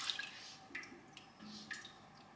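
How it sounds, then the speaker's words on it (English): Whey pours off a pot of goat milk curds in quiet splashes and trickles, with a few soft drips and gurgles spaced through the pour, close and faint. "I'm gonna pour off about 1 liter of this whey from this pot"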